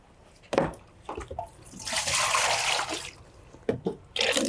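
Water from a bed bath being poured away into a drain, a few splashes and then a steady gushing pour lasting a couple of seconds, followed by further splashes and trickling, close by and moderately loud.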